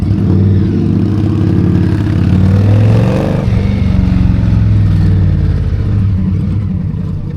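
Indian Scout Rogue motorcycle riding through New York City streets, its engine a steady loud rumble throughout with a brief surge of revving midway, heavy traffic and road noise underneath.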